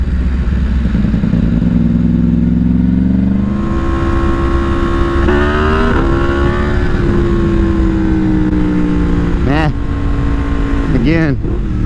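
A Yamaha MT10 motorcycle revs hard through a wheelie, its loud engine note climbing steadily and then dropping sharply twice in quick-shift breaks, with a constant roar of wind and engine throughout.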